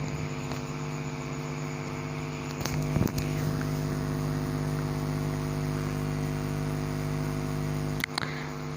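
A sewing machine runs steadily as it stitches along the edge of a kurta neckline. The motor gives a continuous, even hum close by with no pauses, and a couple of brief knocks break in near the start and end.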